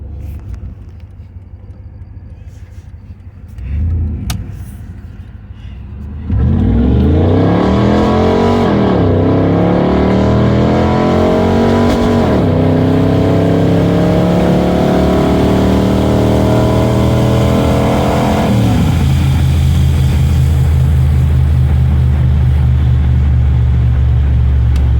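A Pontiac Firebird with an MSD ignition box, heard from inside, idles quietly, then its engine roars up through rising revs as it accelerates onto the freeway, loud and sustained before settling to a steady drone.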